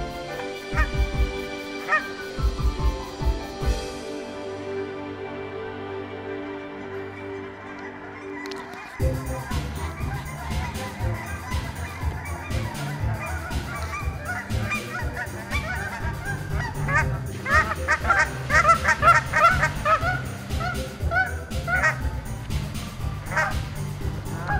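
Geese honk repeatedly outdoors in a park, loud and close, with a dog barking in the mix and wind in the background.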